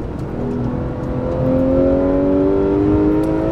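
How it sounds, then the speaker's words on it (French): A modified Porsche GT3 with a naturally aspirated engine pulls hard on a race track, its loud, smooth tone climbing steadily and linearly in pitch from the cabin. "quelque chose de particulier avec la GT3 sur la piste, c'est que comme c'est un moteur atmosphérique, c'est très linéaire"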